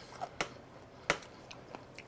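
Crunchy raw broccoli stalks being bitten and chewed up close, a few sharp separate crunches with softer chewing between, quiet otherwise.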